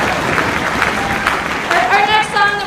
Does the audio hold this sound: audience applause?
yes